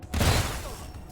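A burst of gunfire during a firefight in the video game Wasteland III, a sharp loud volley that rings out and fades over about a second, with no talk over it.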